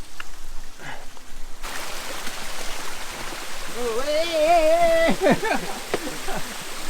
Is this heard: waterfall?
yes